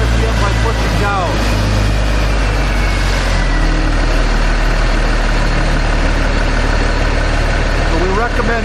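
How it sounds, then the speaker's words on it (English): Fire engine pump motor idling loudly and steadily, its low heavy drone rising slightly as the RPM is raised, close and continuous with someone speaking over it. "Then you increase the RPM by pushing up on the middle toggle switch."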